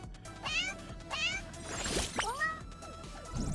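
Meowing from a Taco Cat toy squeezed in a video game, a few short cartoonish meows one after another with a louder sweeping cry near the middle, over steady game background sound.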